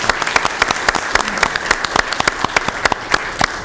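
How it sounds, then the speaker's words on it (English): Applause from a crowd at a Sacramento County Board of Supervisors meeting honoring a 40th anniversary production, a dense run of loud, sharp claps sustained throughout. "More round of applause for our 40th anniversary production."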